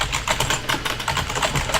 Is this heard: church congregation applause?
no